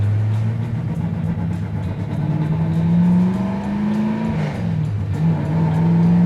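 A 1969 Chevy Camaro cruising, its engine droning steadily close by and the pitch rising as it revs before easing off around a gear change, loud and continuous with no talk.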